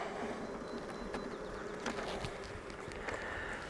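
Honeybees hum steadily around an open hive during spring management, a close, continuous buzz with individual bees droning past, no voices.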